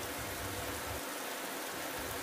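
Steady, even downpour of heavy rain on open grassland in the rainy season, a dense continuous wash with no voices, filling the whole clip at an even level.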